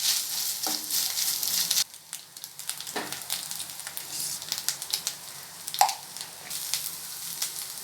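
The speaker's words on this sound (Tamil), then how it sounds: "1 நிமிஷம் போல் எண்ணெயிலே அப்படியே வதக்கி விட்டுடுறேன்" Grated coconut sautés in hot oil for coconut rice, a soft close sizzle broken by scattered stirring scrapes and clicks, briefly dropping quieter early on, with no voices.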